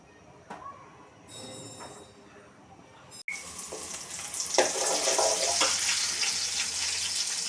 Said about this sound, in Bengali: যথারীতি কড়াইতে তেল দিয়ে পেঁয়াজ দিয়ে দিলাম, পেঁয়াজ ভেজে নিচ্ছি।